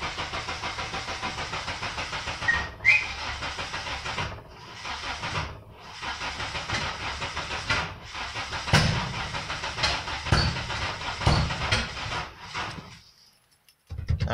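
Car engine being cranked repeatedly without firing during a first start attempt on a Ford 420a fitted with a Megasquirt engine management system, a steady whirring churn with brief gaps, close and loud, ending in near silence.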